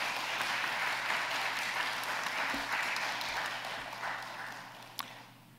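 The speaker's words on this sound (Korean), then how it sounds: "우리 한 목사님께 한번 격려의 박수 해주시기 바랍니다" A church congregation gives an encouraging round of applause for a pastor, a steady, moderately loud clatter of many hands that gradually tapers off, with a single sharp click near the end.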